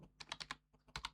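Typing on a computer keyboard: a quick run of about ten crisp, close key clicks in two short bursts, with no talking.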